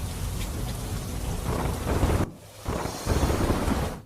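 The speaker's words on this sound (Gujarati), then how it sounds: "સુરેન્દ્રનગર અને વઢવાણ સહિતના શહેરી વિસ્તારોમાં ગાજવીજ સાથે ધોધમાર વરસાદ થયો" Heavy monsoon rain pours steadily with deep rolling thunder over Surendranagar and Wadhwan, Gujarat, and the downpour briefly drops away before surging back loudly.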